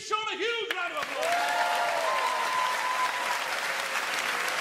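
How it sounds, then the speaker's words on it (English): A live magic show audience breaks into loud, sustained applause for a volunteer after a voice speaks over the start. The clapping fills the room and holds steady to the end. "Give Sean a huge round of applause."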